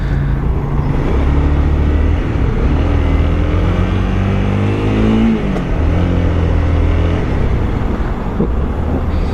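Road traffic, cars and a four-wheel drive, passes close to a cyclist, with a steady loud rush of engines and tyres rising and falling as vehicles go by.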